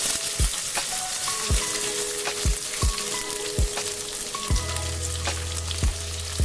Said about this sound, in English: In this oil, we will put the onions, ginger, tomato,